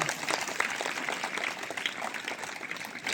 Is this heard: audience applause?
yes